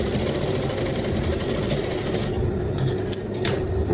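A sewing machine runs continuously while stitching along the edge of a welt pocket flap, a close, steady mechanical whir with rapid needle clatter and a brief dip near the end.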